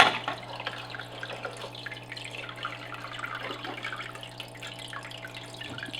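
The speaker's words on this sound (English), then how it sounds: "I'm going to clean out my filter." Water trickles and drips steadily while an aquarium filter is cleaned out, a quiet, close dribbling with small splashes over a low constant hum, no one speaking.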